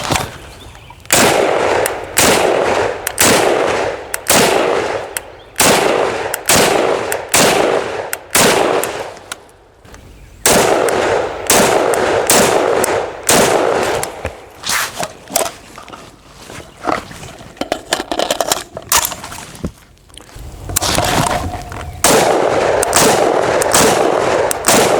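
A SIG 552 (Stgw 550 series) rifle fires rapid double taps outdoors, sharp loud paired cracks repeating in quick bursts across the stretch with brief pauses between strings, no talking.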